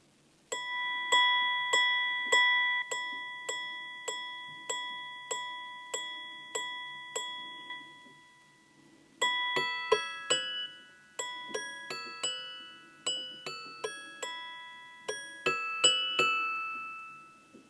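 Blancpain Grande Sonnerie minute-repeater watch chiming a contemporary melody, clear bright gong strikes in quick rhythmic runs and chords, a pause midway, then further clustered notes, close and alone.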